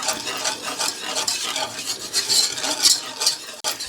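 Flour is stirred into melted butter in a pan to make a roux, giving a busy, continuous scraping and swishing with light sizzling throughout, close and without talk.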